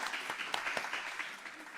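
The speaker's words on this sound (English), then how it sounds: "Let's give another round of applause." Audience applause at a one-day character education program event, a steady wash of clapping filling the short stretch at moderate volume with a few sharper claps standing out.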